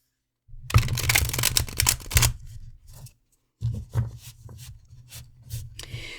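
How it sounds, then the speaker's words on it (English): Tarot cards shuffled close up in several bursts of rapid papery riffling and rubbing, with short pauses between the handfuls. "let me shuffle the deck back here."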